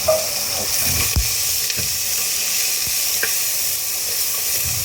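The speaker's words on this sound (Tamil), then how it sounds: "பீச்சு வெங்காயம் எல்லாம் போட்டு வதக்க போகிறோம்" Onions and spices sauté in a large pan for turkey biryani, giving a steady close sizzle with occasional stirring scrapes and clinks and no talking.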